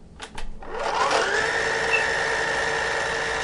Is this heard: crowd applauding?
no